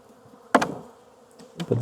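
Honeybees in the bottom box of a hive after winter, low population, give short buzzing bursts near the start and end with quieter hum between.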